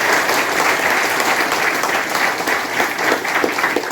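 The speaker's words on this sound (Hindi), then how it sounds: "मैं चाहूंगा एक बार जोरदार तालियां आप उनके लिए बजाएं।" A large audience at a tribal program in India bursts into loud, sustained applause, dense clapping blending into a continuous roar that holds steady for four seconds.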